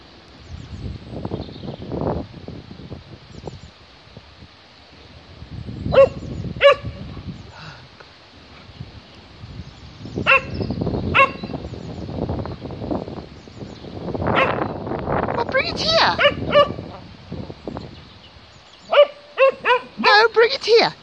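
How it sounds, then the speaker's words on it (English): A dog barks, yips and whimpers in bursts while playing in snow outdoors, with wind and a person talking to it between the barks. "Don't bark."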